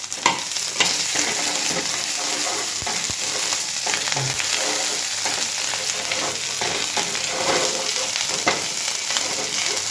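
Green chillies and ginger sauté in a hot pan for sabudana khichdi, a steady close sizzle broken by frequent scraping stirs, with no voices.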